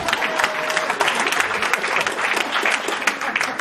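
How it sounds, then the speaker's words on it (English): Sustained audience applause fills a London dinner hall at the Annual Royal Cocoa Festival Dinner, a dense steady patter of many clapping hands lasting throughout, loud and continuous with no break. "A round of applause."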